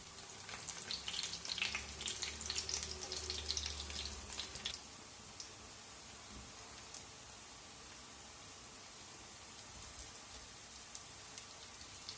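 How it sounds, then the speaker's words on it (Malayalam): Prawn vadas fry in hot oil as they are turned over, giving a dense crackling sizzle that is loud for the first few seconds and then settles into a softer, steady hiss with no talk. "അങ്ങോട്ടും ഇങ്ങോട്ടും തിരിച്ചിട്ടിട്ട് നമുക്ക് നന്നായിട്ട് ഫ്രൈ ചെയ്തെടുക്കാം"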